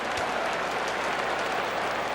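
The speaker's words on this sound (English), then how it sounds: "this crowd is really going to be up and into it now" Crowd at a Phillies baseball game at Citizens Bank Park roaring steadily, with a dense, continuous wash of cheering and applause.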